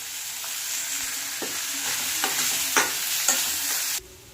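Oil sizzles and crackles steadily in a pan as a tempering of cumin, curry leaves, chopped shallots and coconut is fried for adai, with a few sharper pops and spatters, ending abruptly.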